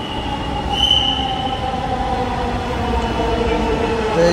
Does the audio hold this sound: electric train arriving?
yes